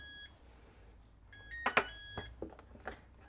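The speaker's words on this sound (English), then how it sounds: "There's my timer." A kitchen timer beeps in short high electronic tones, one brief beep and then a longer run, while whoopie pie batter is being made, followed by clattering kitchen handling noises nearby.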